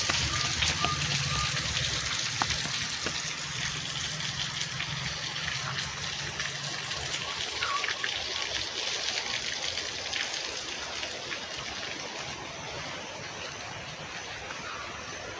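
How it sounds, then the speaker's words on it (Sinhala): Water streams steadily from a village bathing spout with a weak, low flow, making a continuous close splashing hiss that runs the whole time, with a faint low hum early on. "දැන් වතුර එන්නේ."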